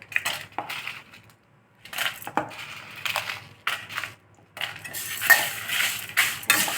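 Around fifteen dry red chillies tossed into a dry pan for roasting, with scattered rattling, tinkling and scraping bursts separated by brief quiet gaps, close and moderately loud.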